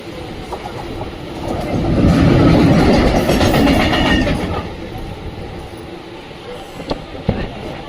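Interior of a fast Mumbai local train running between stations, a steady rumble of wheels and carriage noise that swells mid-ride and then eases, with a few sharp clanks near the end.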